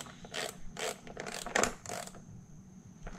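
A ratchet tightens a 10 mm bolt on a ported intake manifold of a 2014 Camaro RS with the LFX V6, several short clicking bursts in quick succession, close and fairly quiet, then falling still.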